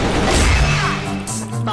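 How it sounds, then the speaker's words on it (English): A flash bomb detonates in the shooter game CrossFire, a loud close crash with a sharp initial impact and dense low rumble that decays over about a second, followed by a softer tonal ring and small noises. "Flash bomb."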